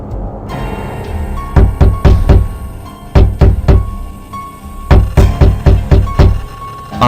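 Repeated knocking on a back door, used as a story sound effect, arrives in loud close clusters of three to five sharp raps separated by short pauses, over a low hum.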